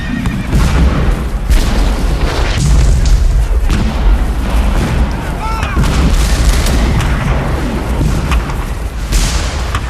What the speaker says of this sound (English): For more than an hour, Confederate guns pound the Federal center.